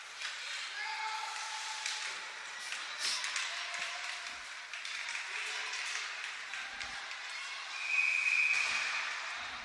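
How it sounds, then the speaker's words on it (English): A referee's whistle at a bantam A youth ice hockey championship game gives one brief shrill blast over steady arena crowd noise, with a commentator talking. "There's a whistle."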